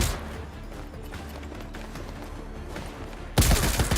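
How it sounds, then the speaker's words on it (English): Loud, sustained gunfire from the Girls' Frontline 2: Exilium video game, a dense wash of rapid shots throughout that swells into a sharper, louder burst near the end. "The gunshots are very loud."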